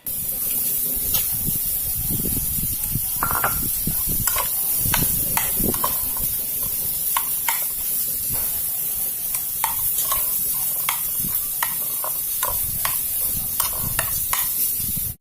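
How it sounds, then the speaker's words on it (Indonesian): Coconut milk is poured and stirred into a grilled eggplant dish, a steady hiss broken by repeated spoon clicks and scrapes against the pan, close and continuous with no talking. "Untuk selanjutnya kita beri santan."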